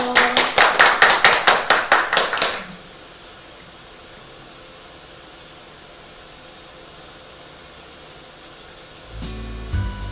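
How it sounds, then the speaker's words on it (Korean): Clapping from a small audience at a neighborhood community forum greets the next presenter: a loud, close burst of hand claps lasting a couple of seconds, then quiet room tone, with a thump near the end. "박수로 환영해 주세요."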